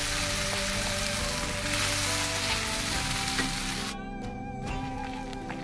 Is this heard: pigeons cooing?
no